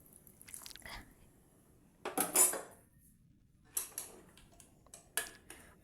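A 1.5 litre pressure cooker lid being set and closed, with a few sharp metallic clanks and scrapes in a quiet kitchen, spaced over several seconds.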